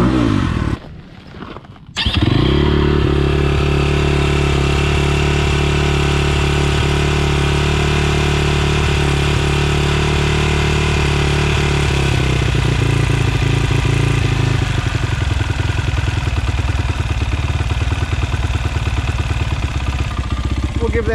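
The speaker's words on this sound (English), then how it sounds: "A lot higher idle already just from more fuel." A new 2020 SSR SR300 dirt bike, freshly fitted with new carburetor jets, fires up after a short gap and settles into a loud, close, steady idle that holds for the rest of the recording.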